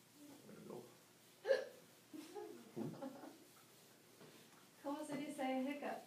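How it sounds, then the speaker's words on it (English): A person hiccups once, sharply and close, amid quiet conversation during a Spanish lesson, with voices talking before and after. "Tú tienes hipo."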